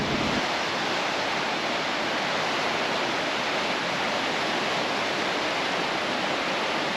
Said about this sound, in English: But there's some serious whitewater.